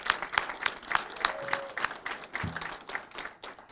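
A small audience at a city council meeting gives a brief, quiet round of applause for an employee of the quarter, a scattered patter of claps that thins out toward the end.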